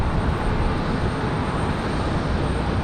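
A United Boeing 737 MAX 9 airliner departs from Raleigh-Durham airport, its jet engines producing a steady, loud broadband roar that holds throughout.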